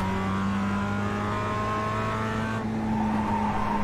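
Race car in iRacing at Summit Point circuit warming its tyres, a loud steady engine drone with a brief gear change, tyre noise throughout, no talk.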